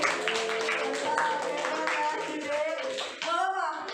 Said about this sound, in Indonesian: beri tepuk tangan buat Jude yang sudah berani